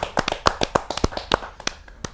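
Audience at a Hindi poetry gathering claps to welcome a performer, a short burst of scattered, uneven handclaps from a modest crowd, fairly close and without any voices.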